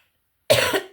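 A single sharp cough bursts out after near silence, close and loud, then trails off quickly.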